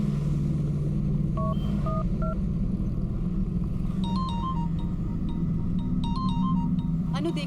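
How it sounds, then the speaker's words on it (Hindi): A telephone rings indoors in short electronic bursts, repeating at intervals over a steady low rumbling background. "अनु देखना किसका फोन है।"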